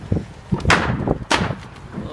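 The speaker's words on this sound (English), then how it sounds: "sound like gunshot, like ammo" Ammunition cooks off in a wildfire with sharp, irregular pops like gunshots, several loud cracks spaced unevenly over rumbling fire noise, with no clear voices.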